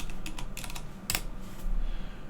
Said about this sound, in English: just go back and type